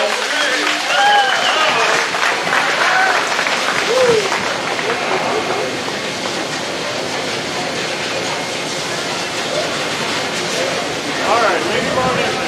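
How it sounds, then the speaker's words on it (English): Audience applause at a dairy and beef livestock show: steady, dense clapping from a crowd that continues for the full twelve seconds, with voices mixed in beneath it. "So we can give him a big round of applause."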